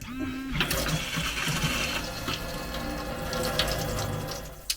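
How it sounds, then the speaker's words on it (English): Water runs steadily from a camper van tap during cleaning and sterilising of the water tank, a continuous close hiss and splash after a short hum at the start. "So again, we're just going to run the tap for a little bit."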